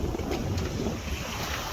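Wind buffets a boat at sea on a murky day approaching Plymouth Sound near the Eddystone Rocks, a steady loud rushing roar with low rumbling microphone buffeting and water noise throughout, no voices.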